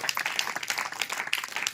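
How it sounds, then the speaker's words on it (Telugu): Loud hand clapping from a church congregation at an Easter Sunday service, many separate sharp claps overlapping in an uneven burst, close and lively. "కొట్టు గట్టిగా చప్పట్లో."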